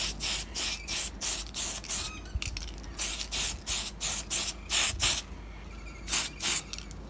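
Short, close bursts of an aerosol spray can hiss in a quick rhythmic series as a light coat of primer goes onto a 1/25 scale AMT Chevy Nova Pro Street model car body, with brief gaps between sprays.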